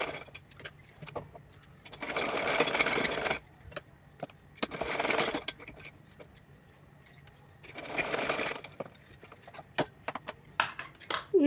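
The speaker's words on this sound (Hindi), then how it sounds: "जितनी सिलाई लगाई है उसके ऊपर से एक बार इसको अच्छे से लगा करके कंप्लीट कर लेती हूँ" A sewing machine runs stitching over the seams of a small fancy doll dress for a Kanha ji idol, in several bursts of rapid whirring separated by pauses, with light clicks and handling noises between runs.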